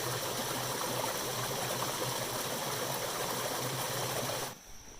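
Steady rushing water pouring continuously, a broad dense roar of a forest creek spilling over a cliff edge, fairly close, with no voices; it cuts off abruptly near the end.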